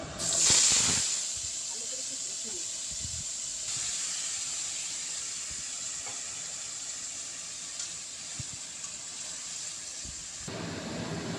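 Marinated goat mutton sizzles in a little oil in a kadai, a loud, steady hiss running throughout, with brighter surges right at the start and again near the end.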